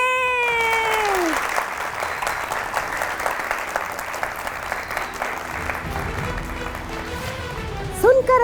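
A large studio audience at a Pakistani television game show applauds in a dense, sustained wash of clapping, with a host's voice speaking at the start and again near the end.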